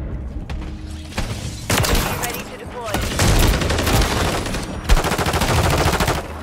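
Rapid automatic rifle fire from a sniper rifle set up as an assault rifle in a shooter video game: loud, sustained bursts of gunshots in several runs with short pauses between them.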